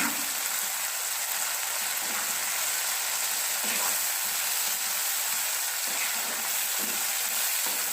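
Lotte fish frying in a pan of hot oil, a loud, dense, unbroken sizzle that holds steady throughout, close up and alone.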